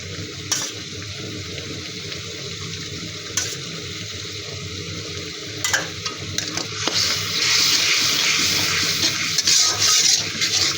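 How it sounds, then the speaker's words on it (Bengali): Spice paste with chili, coriander and yogurt for prawn malai curry is stirred and fried in a pan: soft scraping sounds and occasional knocks, then a louder steady sizzle in the second half. "মশলাটা খুব ভালো করে কষিয়ে নিব"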